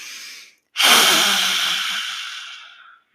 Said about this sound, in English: a lion's breath where you take like a big breath through your nose